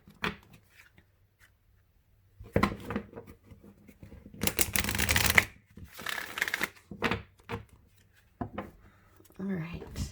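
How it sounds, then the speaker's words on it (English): Tarot cards being shuffled by hand in quick bursts of riffling and sliding, with short pauses between runs and a faint low hum underneath. "I'm going to just shuffle these really quick."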